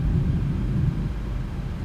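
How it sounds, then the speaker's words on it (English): The nose wheel of an Aerosoft CRJ regional jet turns in a flight simulator game, giving a low, steady, continuous rumble at moderate level with no talking. "It's the sound of the nose wheel turning."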